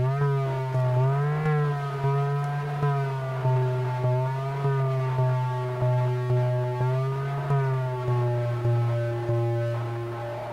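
Donner Dark Mouse pedal with delay switched on, a steady sustained tone wavering gently in pitch like a siren, loud and continuous with faint repeating pulses throughout, no voices.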